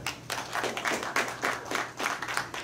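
A live lounge audience claps in pulsing waves, the applause swelling and dipping in a loose rhythm for a few seconds with no voices over it.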